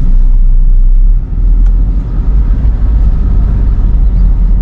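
A 2010 Toyota Innova diesel with automatic transmission accelerates on the road, its engine a steady, smooth low rumble close by, with continuous road and cabin noise and no strain or roar.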